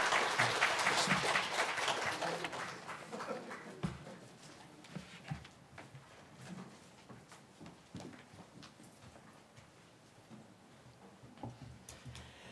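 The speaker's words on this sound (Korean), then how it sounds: "다시 한번 크게 박수해 주시고" A church congregation claps loudly at first during a Sunday service, the applause gradually thinning out and fading to scattered claps and quiet room noise.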